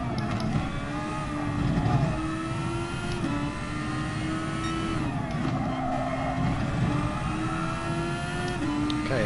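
Race car engine in the GT Sport driving game, loud and steady through a lap, the pitch climbing and dropping sharply at each gear shift, with no one talking.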